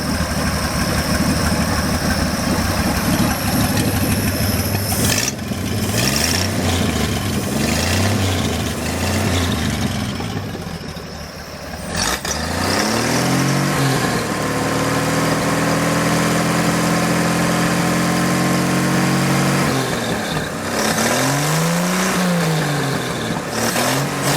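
A large, boosted 250 truck engine idles steadily at operating temperature with a low, throbbing rumble, briefly revving and settling a few times; no talking.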